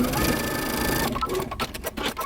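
A sewing machine stitches a flutter top, running in a steady continuous whir for about a second before breaking into shorter stop-start bursts of stitching, close and fairly loud.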